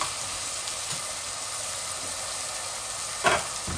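Onion and whole garam masala sizzle and fry in hot oil with chepa shutki dried fish, a steady close hiss broken by one brief louder burst of stirring near the end.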